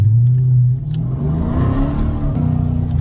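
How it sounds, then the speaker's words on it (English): A 2011 Dodge Challenger SRT8 with long-tube headers and an open, free-flowing exhaust gives a loud close-up growl that dips after a steady hold, then rises again in a rough, rumbling rev. "The long tube headers, the open free-flowing exhaust,"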